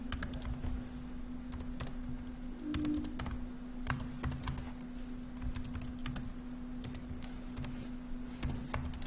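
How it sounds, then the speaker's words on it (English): Typing a pip install command in a computer terminal, with irregular clusters of light, close keyboard clicks over a low steady hum and no speech. "So if I go in my terminal and type pip install pygame"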